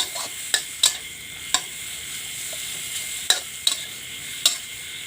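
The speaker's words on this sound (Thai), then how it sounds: "ใส่ลงไปผัดคลุกเขาให้เข้ากันเลยนะครับ" Instant Mama noodles being stir-fried in a pan: a steady sizzle runs underneath while a spatula clinks and scrapes in sharp, irregular strikes, close and fairly loud, with no talking.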